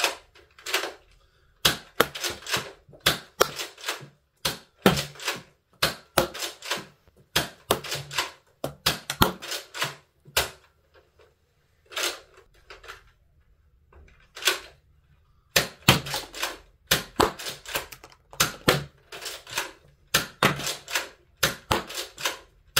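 Nerf Fortnite HR bolt-action blaster slam-fired repeatedly, giving bursts of sharp plastic clacks and snaps in quick clusters separated by short pauses, close and fairly loud with no talking.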